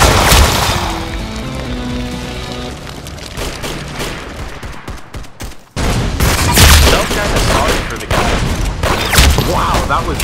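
Loud, dense gunfire in the Roblox shooter Arsenal, with continuous bursts, booms and crashes throughout and a brief cut-out midway before the firing resumes.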